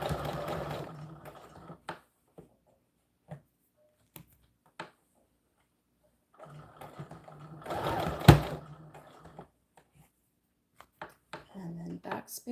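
A sewing machine stitches an American Girl doll dress in two sustained runs with quiet gaps between them, where small clicks and handling sounds come through, and a person talks at points.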